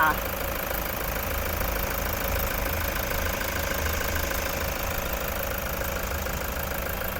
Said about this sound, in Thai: ตอนนี้เราสตาร์ทเครื่องยนต์อยู่นะคะคุณลูกค้าสามารถฟังเสียงเครื่องยนต์ได้เลยค่ะ